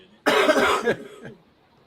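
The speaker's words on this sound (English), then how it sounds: "I started having a cough attack" A single harsh cough bursts out close by, followed by a softer, shorter cough a moment later.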